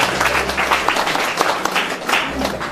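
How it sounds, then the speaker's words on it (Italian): Guests at a Christmas Mass and dinner gathering of an Italian association clap together in a lively, dense burst of applause that carries through the whole moment, close and fairly loud. "Un applauso."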